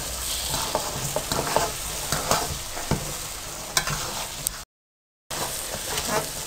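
A spoon scrapes and stirs makhaddi halwa without pause in a kadhai, the mixture sizzling as it fries, with close metallic scrapes and soft sputtering throughout, broken by a brief silent gap.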